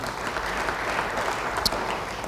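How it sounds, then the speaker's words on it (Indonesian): A church congregation claps together, steady and sustained applause with no one speaking over it. "Beri tepuk tangan bagi dia."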